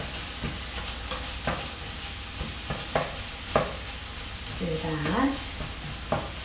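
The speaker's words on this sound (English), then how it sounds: "And now I'm gonna reach here because that's sauteing, right? And add in the meat again." Meat sautéing in a pan gives a steady low sizzle with intermittent stirring scrapes and clinks, near and moderately loud, with no talking over it.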